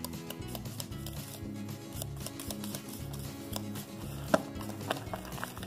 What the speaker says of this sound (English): Next thing to do is to mix it up. Grab us a little whisk here.